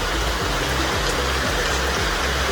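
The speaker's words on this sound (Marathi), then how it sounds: "पाऊस. जोर वाढला पावसाचा." Heavy evening monsoon rain pours down in the Konkan, a dense, steady hiss and patter that is close and unbroken for the whole stretch, with no voices.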